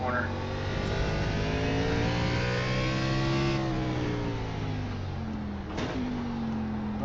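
A race car at Circuit of the Americas holds a loud, sustained engine note near the microphone, pitch easing down, with a sharp blip near the end as it nears a downshift.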